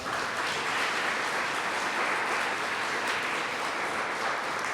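Audience applause at an awards banquet for senior athletes, a dense, steady wash of clapping that carries through the whole stretch at a fairly loud level, with no talking over it.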